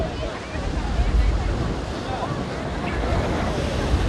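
Ocean waves wash onto a rocky beach at Udupi in a continuous roar of surf mixed with gusty wind buffeting the microphone. A person speaks faintly beneath the noise.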